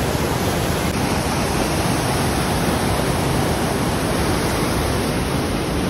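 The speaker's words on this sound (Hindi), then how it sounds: "पत्थर के ऊपर अहमद चढ़ा हुआ है और पीछे दरिया है बहुत तेज़" A fast-flowing river rushes steadily behind a large rock at Dadar near Mansehra, a dense, broad roar of water that stays constant and loud throughout with no break.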